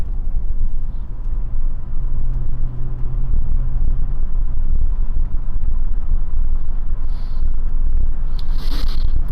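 Interior of a Mercedes W126 on an evening drive: a loud, steady low road and engine rumble with tyre noise and faint rattles, then brief hissing gusts near the end.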